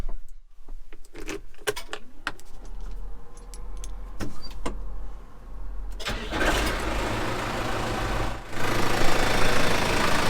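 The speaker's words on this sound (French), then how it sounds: "je vais redémarrer le tracteur et le filtre à huile va se remplir" A tractor engine is cranked after an oil change and filter swap. Sharp clicks and clatter come first, then a loud starter whine that catches into a steady, rough idle close by, with no speech.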